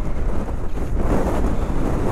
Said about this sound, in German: Der Wind wirft mich um.